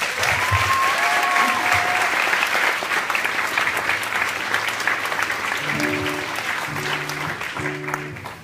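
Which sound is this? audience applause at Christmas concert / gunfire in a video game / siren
audience applause at Christmas concert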